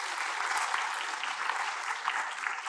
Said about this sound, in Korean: 이 잘하는 찬양팀에게 박수 한번 하셔야 되지 않겠어요?